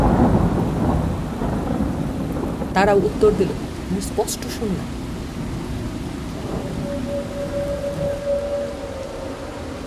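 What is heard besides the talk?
thunderstorm with heavy rain, horror story effect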